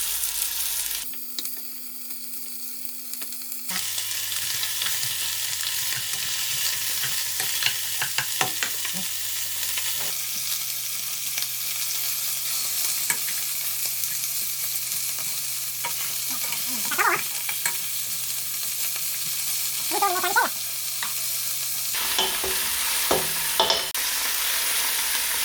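Lamb meat and onions browning in a hot pan give off a steady, close sizzle over many seconds, with occasional stirring scrapes and small pops.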